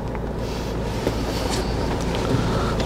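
A Mitsubishi Pajero on a road test drive, its steady engine and road rumble mixed with wind noise, continuous and fairly loud with no talking.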